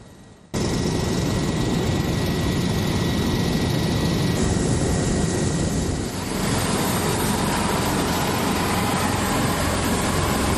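A helicopter on an aid delivery mission to areas hard to reach by road, its engine and rotor roaring loud and close in a dense continuous wash that shifts slightly in pitch partway through.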